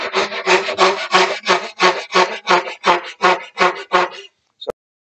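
A Veritas backsaw cuts wood in a dovetail or crosscut, with about a dozen even, close rasping strokes in a regular rhythm, then stopping with a brief tap.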